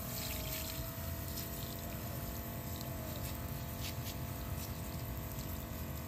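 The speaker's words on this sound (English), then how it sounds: "I just wanted to see if it has enough pressure to apply the coil cleaner and rinse the coils" A pump sprayer bought from Amazon steadily sprays water for coil rinsing, giving a continuous, even hiss that stays faint and unbroken throughout, with no talking.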